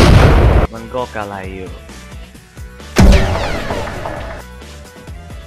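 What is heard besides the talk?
explosion sound effect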